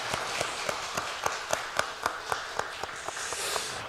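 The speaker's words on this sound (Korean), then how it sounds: "다시 한번 뜨거운 박수 한번 하도록 하겠습니다." A church congregation at a Sunday worship service gives a round of applause, heard as fairly quiet, evenly spaced claps in a steady rhythm that carry on for several seconds.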